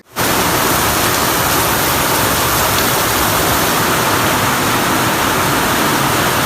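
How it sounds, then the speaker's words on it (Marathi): Heavy morning rain pours down in a dense, continuous roar that stays loud and unbroken from start to finish, with no voices. "जोरदार पाऊस सुरू आहे"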